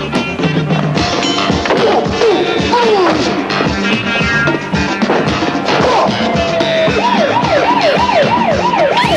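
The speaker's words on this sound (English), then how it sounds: "Police car!" Wailing police car siren rising and falling in a looping pattern, strongest toward the end, layered over dense, loud background sound throughout.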